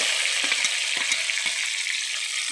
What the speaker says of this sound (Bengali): ভালো করে এটাকে ব্রাউন করে ভেজে নিতে হবে